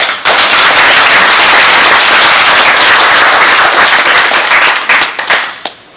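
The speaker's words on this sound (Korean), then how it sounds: "여러분 큰 박수로 환영해" An indoor audience claps loudly in sustained, dense applause welcoming a guest at a commemorative event, steady for several seconds before tapering into scattered claps.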